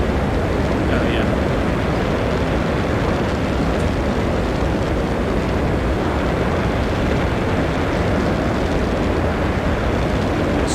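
An F-14 jet flying in the X-Plane 12 flight simulator game, a steady, loud, broadband engine roar that holds unchanged throughout with no clear talking over it.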